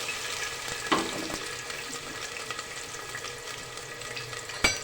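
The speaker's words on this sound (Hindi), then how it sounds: "लहसुन अदरक और टमाटर डाल के खूब अच्छी तरह पहले हम भूनेंगे।" Tomato and ginger-garlic paste fry in hot mustard oil, a continuous crackling sizzle with scattered pops and a couple of sharp spoon or pan knocks, close and fairly quiet.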